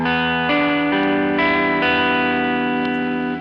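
Electric guitar played through a Source Audio Artifakt lo-fi pedal with the mix fully up, giving sustained, chorused and distorted chords that change every second or so, loud and continuous with no talking.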